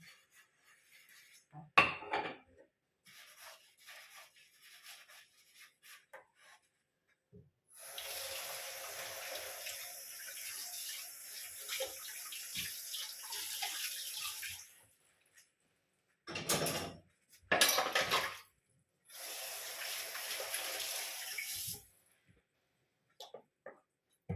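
Dishes washed by hand in a home kitchen sink under a running tap, with bursts of flowing water, clinks of crockery and pauses between rinses, close by and with no one speaking.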